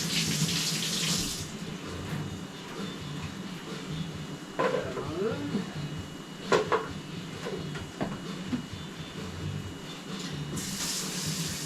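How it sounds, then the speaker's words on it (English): Tap water runs steadily into a kitchen sink while a hot lid from a frying pan is rinsed, with occasional clatters and knocks of the lid against the basin and a brief voice in the middle. "So rinse that off."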